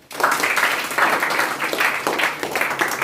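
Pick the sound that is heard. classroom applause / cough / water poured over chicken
classroom applause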